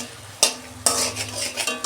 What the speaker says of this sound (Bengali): 2 মিনিট আমি ভালো করে কষাবো।